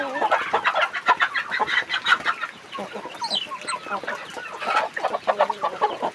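Rapid, busy clucking from several fighting roosters close by, with short bursty calls tumbling over one another and occasional higher squawks.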